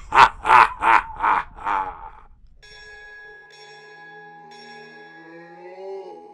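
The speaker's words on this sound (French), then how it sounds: "une cloche fit entendre les sons de l'Angélus" A church bell rings the Angelus in a sustained tolling tone with a long, humming decay, heard alone after a voice speaks briefly before it.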